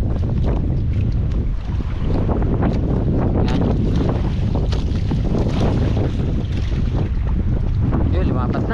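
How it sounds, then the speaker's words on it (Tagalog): Strong north wind buffets a fishing boat at sea, a loud, steady roar of wind noise on the microphone with water sloshing beneath, continuous throughout with no talk. "Grabe oh, hangin oh. Hangin ano, norte."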